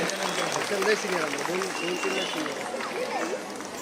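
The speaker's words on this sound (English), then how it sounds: "A big round, thundering applause to these children." At a school annual gathering, an audience applauds children after their performance, steady clapping that stays fairly faint and distant while voices talk over it throughout.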